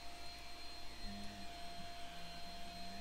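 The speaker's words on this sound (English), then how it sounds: "If you hear any sound in the background, that is a vacuum." A vacuum cleaner drones faintly in the background, a steady distant whine with a constant hum and small pitch shifts, no voices over it.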